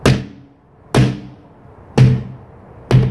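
Four heavy thuds from an arm striking tires, evenly spaced about a second apart, each a close, dull impact that quickly decays, with no talking.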